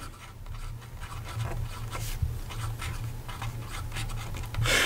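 Platinum 3776 Kawaguchi fountain pen with a 14K medium nib writing on paper, a quiet close-up scratchy scratching in short irregular strokes, alone without talk.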